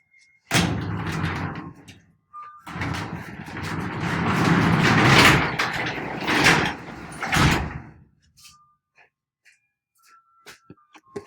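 A home garage door rolls shut with a loud, sustained rumbling clatter lasting about seven seconds, then stops, leaving near silence with a few faint ticks.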